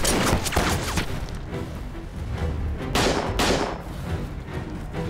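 Machine gun fire in a dubbed action drama ambush scene, dense bursts of heavy thudding shots with sharp cracks, loud and continuous across the whole stretch with no talk.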